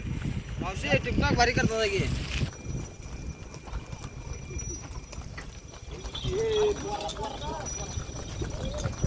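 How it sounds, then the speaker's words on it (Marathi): Bullock hooves clop along as bullock carts pass through a traffic jam, with wind buffeting the microphone and people talking and calling out over the movement. "आता येतात आपल्या बैलगाड्या"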